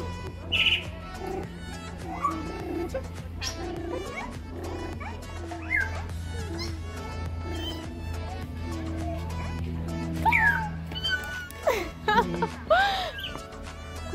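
A parrot on a birthday tour at Nairobi National Park calls and mimics sounds, sharp squawks and whistles scattered over a steady engine hum, growing busier toward the end, with people talking nearby.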